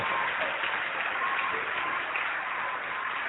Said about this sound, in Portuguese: Vamos aplaudir mais ao nome do Senhor Jesus.